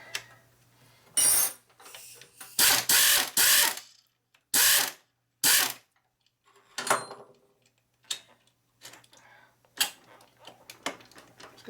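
Ratchet wrench clicking while pulling a bolt on a Harley Sportster XL 650 single engine rebuild: loud bursts of rapid ratcheting strokes, followed by softer, sparser clicks and metal taps close by.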